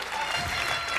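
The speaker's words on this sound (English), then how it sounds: "They were applauding Antique Roadshow." Late-night talk show studio audience clapping, a dense steady wash of applause from a crowd filling the whole short moment.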